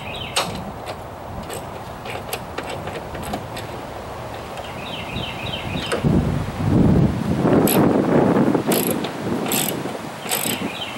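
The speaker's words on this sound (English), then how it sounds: "that was the ratchet I bought" A ratchet wrench loosens front strut bolts on a GM crossover, its rapid pawl clicks running in bursts over close metallic clanks and rattling, louder toward the end.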